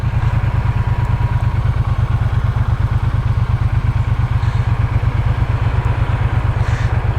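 A 2024 Triumph Bonneville T120 motorcycle pulls away, its twin engine thumping in a loud, steady, close rhythmic pulse with no voices.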